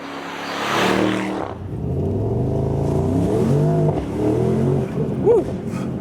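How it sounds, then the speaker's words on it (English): A Mercedes-AMG SL63 pulls away from 0 to 40 mph, its V8 exhaust rising through the revs with crackling pops along the way, heard from inside the car with a voice briefly under the engine. "That was 0 to 40 miles an hour with a lot of fireworks from the exhaust."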